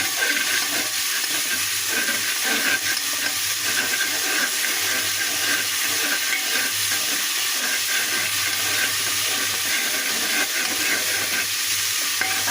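Masala with bay leaf, cloves and cinnamon sizzles and is stirred steadily in hot oil, a loud, close, continuous frying hiss with scraping stirring throughout and no talk.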